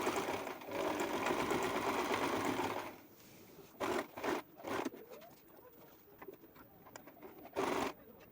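A sewing machine stitches a chiffon blouse, running in a loud continuous whir for about three seconds, then in short separate bursts, with pigeons cooing faintly in the background.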